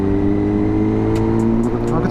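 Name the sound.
car engine running, cooling down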